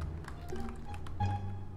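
Knocking on a door in the Roblox game RoCitizens comes as a few quick, hollow taps, heard close over a low game hum and background sound.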